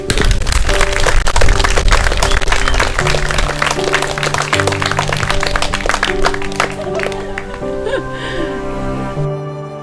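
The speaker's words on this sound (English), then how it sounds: "give them a clap," Wedding guests applaud the newly declared husband and wife, a loud burst of clapping that thins and fades toward the end, with music or tones sounding beneath it.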